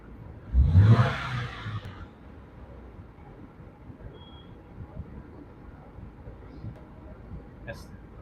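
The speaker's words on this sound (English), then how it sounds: "I'm going to do a snap throttle right now" A 2015 Subaru Crosstrek engine with a failing AC compressor gives one short, loud snap-throttle rev near the start, then drops back to a low, steady idle rumble.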